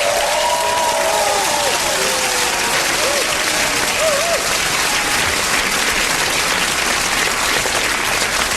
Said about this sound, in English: Round of applause in the 80s